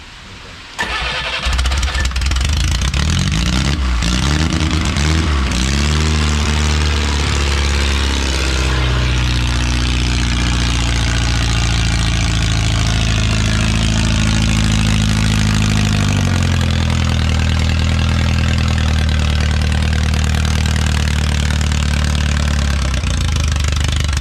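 An original Renault 4CV engine, run for the first time in about 70 years, cranks and catches, sputters as revs rise unevenly, then settles into a loud, steady, slightly lumpy idle close by.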